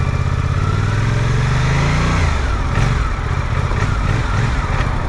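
A Suzuki GSX-8R motorcycle engine burbles with a staggered, uneven putter, revving briefly then dropping back to a lumpy idle, close and loud with no talking.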